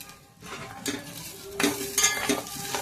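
Tomato paste fries in a pan for a paneer curry, with a few distinct scraping stirs and clinks of a spoon over a low sizzle, close and fairly loud, no talking.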